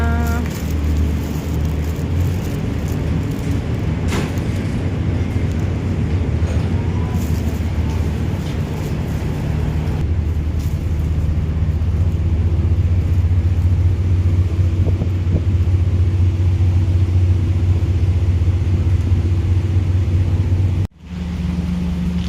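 Vehicles rolling off a ferry at the dock on the Kota Kinabalu to Labuan crossing, a steady low engine rumble with deeper idling tones building in the second half, a few clunks, and a brief drop near the end.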